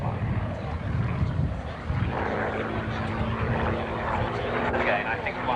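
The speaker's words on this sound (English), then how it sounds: "A performance that gives an eye to the aircraft's design role, a two-seat light day bomber." A two-seat light day bomber aircraft flies a display at the Shuttleworth Collection, its steady engine drone running throughout beneath a commentator's voice.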